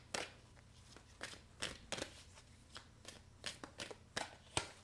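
Tarot cards being shuffled and handled to draw another card, soft papery riffles and flicks in irregular bursts, close and quiet, with no voices.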